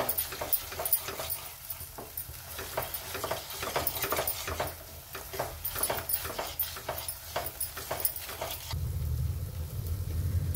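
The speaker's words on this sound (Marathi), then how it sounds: "परत अजून 2 मिनिट आपल्याला असं परतून घ्यायचंय मसाल्याला।" Spice masala is stirred and fried in a kadai, heard as a quick, rhythmic series of scraping strokes over a low sizzle, shifting to a duller rumble near the end.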